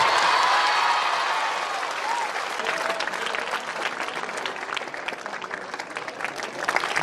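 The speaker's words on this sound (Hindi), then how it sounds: "तालियां इतनी जोर से बजाओ कि एलुमनाई को जोश आ जाए।" A crowd at a school alumni meet applauds loudly, a thick burst of clapping that eases into a steady patter of many hands, with cheering voices mixed in at the start.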